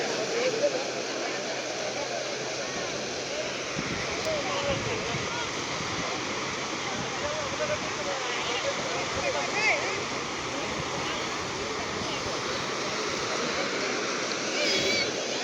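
Continuous wash of sea waves on a beach with rocks, steady and fairly loud throughout, someone talking over it.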